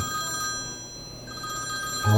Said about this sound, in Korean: 요 며칠 동안 이렇게 전화벨이 불티나게 울리는 건 저희 병원 개원 이래 처음이었어요.